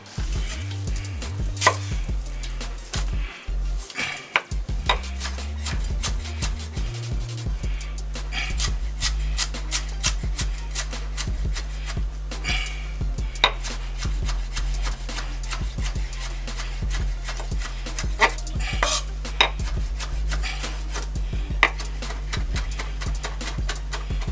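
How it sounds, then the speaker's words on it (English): A knife chops cilantro on a cutting board in a kitchen while red snapper is prepared, giving a steady, rapid run of close, crisp taps with no talking over it. "I'm going to cut up some cilantro."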